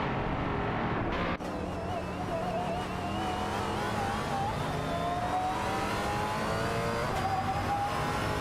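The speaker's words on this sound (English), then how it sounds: "Proxy Grave in the Aston Martin Vulcan has been closely trailing the man in the Pagani Huayra BC" In an AI racing video game, an Aston Martin Vulcan and a Pagani Huayra BC roar around the track, engines revving with rising and falling pitch and faint tire squeal in a continuous, loud, close drone.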